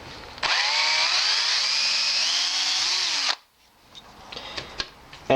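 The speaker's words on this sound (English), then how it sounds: "I've installed an 1/8 inch drill bit into my drill." A power drill with a 1/8 inch bit bores into birdhouse wood, a loud steady whine rising slightly in pitch for about three seconds before stopping, followed by quiet handling clicks.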